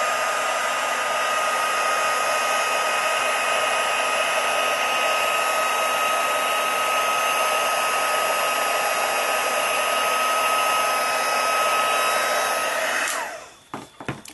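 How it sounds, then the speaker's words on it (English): A heat tool blows hot air over a card in a steady, loud, close whooshing roar that holds constant for about thirteen seconds before cutting off abruptly, leaving faint handling noises. "So just take your heat tool"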